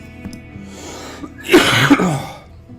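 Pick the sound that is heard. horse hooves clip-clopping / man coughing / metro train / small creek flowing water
man coughing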